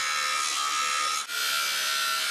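An angle grinder cuts through a fence beside a private beach, a loud continuous high whine with one brief dip in the middle, close by and with no voices over it.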